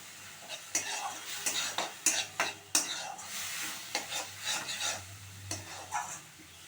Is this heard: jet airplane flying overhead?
no